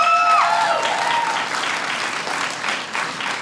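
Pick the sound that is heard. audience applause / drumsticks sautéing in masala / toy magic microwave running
audience applause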